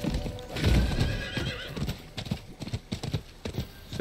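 A horse in the video game Diablo IV gallops with a rapid clip-clop of hooves, loud and near, then whinnies, with hoofbeats continuing in uneven bursts while someone speaks over the action.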